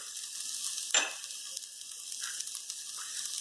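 Ground masala spices roasting dry in a pan over low gas heat, a steady soft sizzle with one sharp crackling burst near the start, then quieter hiss with faint stirring scrapes.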